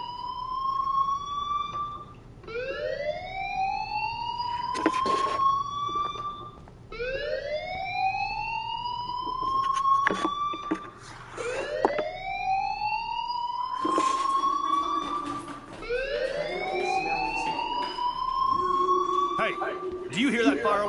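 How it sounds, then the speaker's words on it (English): A fire alarm sounds with repeated rising whoop tones, about two seconds each, looping steadily and loud throughout, with voices talking beneath it. "Do you hear that fire alarm?"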